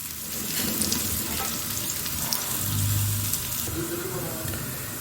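Onions frying in hot oil for chicken biryani, a steady close sizzle running through the whole stretch with light stirring and faint background voices.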